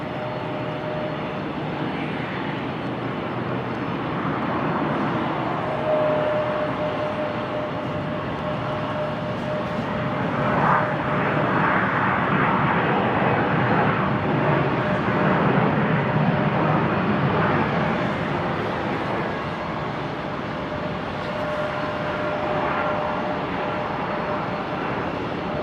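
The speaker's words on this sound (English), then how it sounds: "There's that CRJ 700." A CRJ 700 regional airliner passes at Salt Lake City airport as a steady, broad engine roar that swells gently toward the middle and then holds, heard at a distance with no talk over it.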